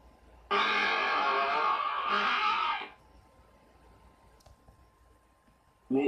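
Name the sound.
toilet flushing in Minecraft video game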